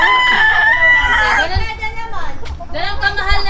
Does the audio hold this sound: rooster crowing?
yes